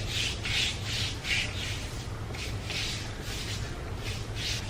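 Repeated rubbing strokes on bare leg skin after a wax strip is pulled away during home leg waxing, a steady series of close, rasping swishes in an even rhythm with no talking.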